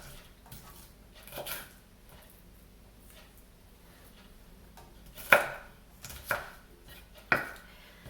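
Knife chopping a big onion on a board, a few sharp, close cuts with an irregular rhythm, mostly isolated strikes toward the end over a quiet background.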